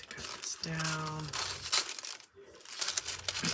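Paper being cut down to size for a collage, giving crisp rustling, crinkling snips and tearing sounds in short bursts at close range, with a short pause midway.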